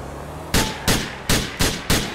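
Five sharp gunshots ring out in the Grand Theft Auto IV video game, loud, close and evenly spaced about a third of a second apart, each with a short decaying tail.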